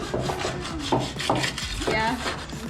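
Scrubbing with brake cleaner to strip spray paint off a Honda Civic roll cage: a close, steady rasping rub with a few sharper scraping strokes over about three seconds.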